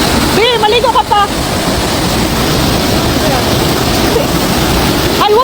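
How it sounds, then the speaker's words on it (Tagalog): A strong, fast river beside a resort in Laguna roars loudly and steadily up close, while a voice speaks briefly near the start and again at the end. "Sobrang lakas ng pressure ng water dyan."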